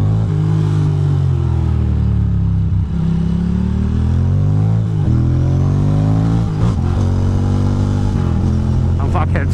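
A car engine revs and pulls steadily throughout as the driver shifts gears hard, the pitch rising and dropping with each change, loud and close with some clatter.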